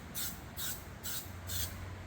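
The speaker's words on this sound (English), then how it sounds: "The spray painting part is always so quick and easy." Spray paint hisses onto a surface in four short bursts of about a third of a second each, close and evenly spaced, with no talking.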